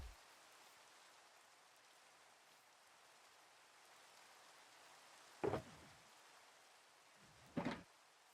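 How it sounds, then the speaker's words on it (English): Steady rain falls in the video game Minecraft as a soft, even hiss throughout, broken by two short, louder knocks near the end. "More rain. It's like every 10 minutes."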